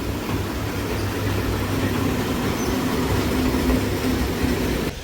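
A toy train at a zoo park in Vietnam runs past in a continuous loud rumble with a steady rolling drone, no talk over it.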